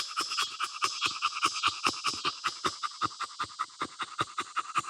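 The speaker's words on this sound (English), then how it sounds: "breathing awesome." A bulldog pants rapidly and steadily during a BOAS breathing test in heat, each quick breath close and raspy in an even rhythm, heard alone without talking.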